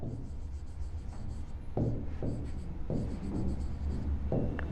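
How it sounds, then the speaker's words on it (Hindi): A pen scratches steadily across a board, writing out answer options in short, repeated strokes that run without a break and sound close and clear. "इस क्वेश्चन के ऑप्शंस लिख रही हूँ"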